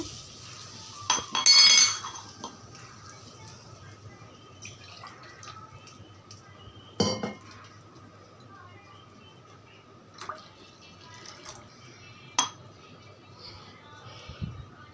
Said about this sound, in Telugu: నాలుగు గ్లాసులు వాటర్ పోస్తున్నానండి ఇందులో